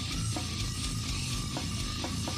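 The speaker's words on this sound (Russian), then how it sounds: "Слэм — это когда группа звучит вот так." A slamming brutal death metal band plays a short excerpt: a dense wall of heavily distorted guitars and pounding drums, loud and continuous, with no talk over it.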